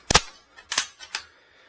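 A French Gras single-shot black powder bolt-action rifle, empty, gives three sharp metallic clacks as the trigger is pulled and the bolt is worked, loud and close with short gaps between them.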